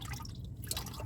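Automatic transmission fluid drips steadily out of a Nissan 370Z during a home fluid change, a brief close run of liquid patter.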